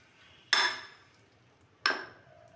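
A bowl of chopped vegetables being mixed gives two separate sharp clinks of a utensil against the bowl, each ringing briefly and then fading, with quiet gaps between them.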